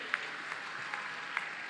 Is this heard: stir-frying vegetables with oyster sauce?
no